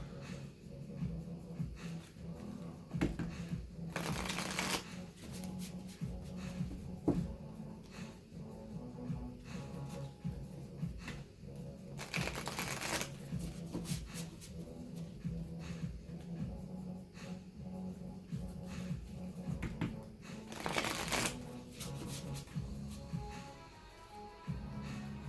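Three brief, bright bursts of card shuffling spaced several seconds apart, with quiet room hum and low rustling in between and no talking.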